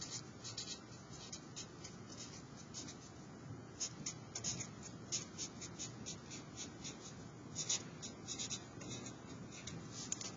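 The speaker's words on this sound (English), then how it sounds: "in the top left corner, I want you to write Oil Pastel Techniques." A Sharpie marker scratches across drawing paper in short, quick strokes, a close, dry squeaking pattern of repeated bursts with no talking.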